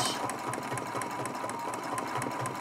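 A sewing machine stitches yellow turkey feathers on a mug rug, a fast, even mechanical chatter of needle strokes running steadily and close throughout.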